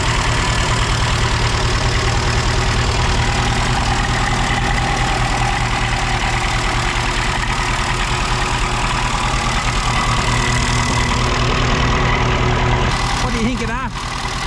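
The engine of a Ferguson TEF20 tractor, revived after 45 years, runs close by. It holds a loud, steady, slightly rough idle with a rhythmic knock throughout, and a brief change comes near the end.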